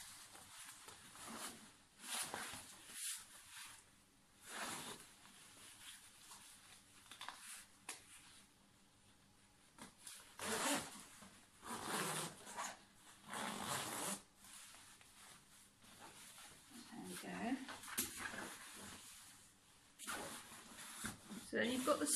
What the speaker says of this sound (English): They just zip on.